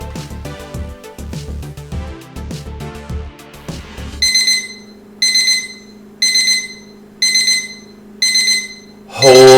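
A timer alarm goes off once the hour is up, sounding as five loud, evenly spaced electronic beeping bursts, each about a second long, heard alone after a short stretch of music.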